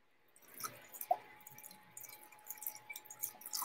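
Water swished and dripping inside a matcha bowl as it is rinsed, soft close splashes and small drips at a low level in a quiet room.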